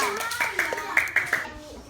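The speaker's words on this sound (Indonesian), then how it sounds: "Beri tepuk tangan untuk kelompok 3." Children clap together for a group in a classroom, a quick run of several sharp, loud claps over about a second, with kids chattering faintly around it.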